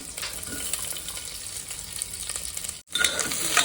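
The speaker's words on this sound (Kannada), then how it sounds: "ಇವಾಗ ಒಗ್ಗರಣೆಯಲ್ಲಿ ನಾನು ಆನಿಯನ್ನ ಹಾಕ್ತಾ ಇದ್ದೀನಿ." Steady crackling sizzle of onions frying in hot oil, close and continuous, with a brief dropout near the end before the sizzle resumes louder.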